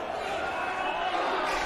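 A bloodthirsty crowd roars steadily at a wrestling street fight brawl, a dense, continuous wash of cheering and yelling filling the space without a break.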